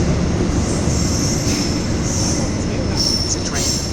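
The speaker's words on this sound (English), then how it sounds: "This is our train." A train rolls past close by in Java, Indonesia, with a loud steady rumble and a high metallic wheel squeal rising and fading.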